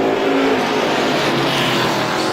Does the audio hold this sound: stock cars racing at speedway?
yes